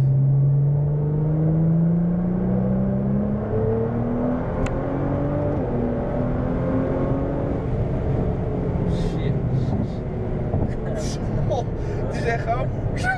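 Nissan GT-R accelerating hard from 80 to 165 km/h, a loud rising engine tone climbing through gear changes inside the car, with voices talking toward the end.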